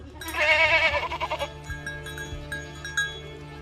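A flock of sheep bleats loudly and close by, a wavering cry in the first second and a half that then falls away to a quieter background with faint tones.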